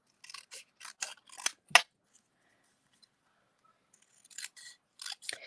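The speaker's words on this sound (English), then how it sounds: "I'm just going to take and cut a rectangle." Scissors snip through a small paper sentiment, trimming it into a rectangle for cardmaking: a quick run of five or six close, crisp cuts, a pause of near silence, then a few more snips resuming, with no talking.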